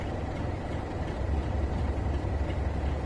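A train moves off from a platform on the Midland Main Line in Train Sim World 3, a steady low rumble that grows slightly louder as it gets under way.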